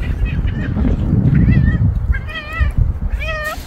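A cat meows several times up close, with short rising and falling cries in quick bursts over a low, rumbling background.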